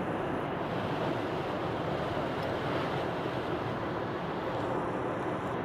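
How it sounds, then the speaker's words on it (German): Steady, broadband wind roar at a wind farm, rushing over the microphone without a break, loud and constant throughout. "Ja, der Wind geht gut jetzt"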